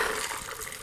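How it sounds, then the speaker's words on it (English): A Southern Comfort Sour cocktail is strained into a rocks glass with ice, giving a brief, soft gush of pouring liquid at fairly low volume, with no voices. "Strain into a rocks glass with ice."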